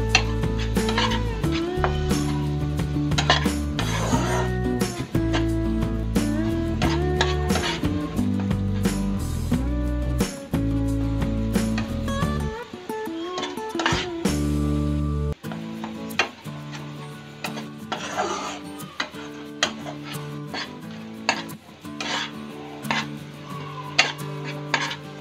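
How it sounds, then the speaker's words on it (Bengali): Spice paste (masala) is stirred and fried in a pan for a katla fish kofta curry, with repeated scraping strokes and a soft sizzle over steady background music throughout. "এরপর মশলাটা ভালো করে কষিয়ে নেব।"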